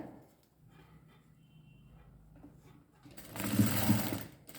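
A sewing machine stitching piping along a blouse border starts up loudly near the end, a dense steady whir running for about a second after quieter handling sounds.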